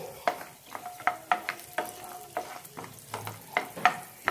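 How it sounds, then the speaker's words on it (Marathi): Cashews and almonds roast in a pan with a soft sizzle under a quick, steady rhythm of stirring scrapes and light clinks. "त्याच्यामध्ये काजू बदाम टाकून छान भाजून घेऊ याला।"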